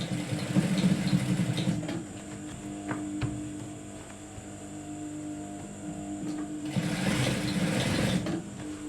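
A sewing machine stitches trouser fabric in a steady mechanical whir. Louder bursts of stitching come at the start and again near the end, with a quieter running hum between them. Nobody speaks.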